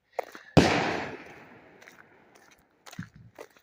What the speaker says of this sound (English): We're going past the shooting range.